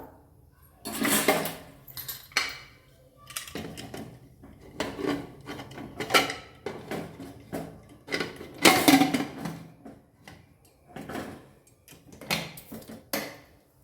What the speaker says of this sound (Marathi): ते सर्व हलवून आपल्याला कुकरचं झाकण लावून घ्यायचे